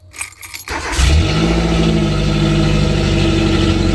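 Car engine idling steadily right after an IAC valve calibration, a mid-pitched hum that settles at even revolutions following a brief jingle of keys and the switch being turned; close and continuous with no talk.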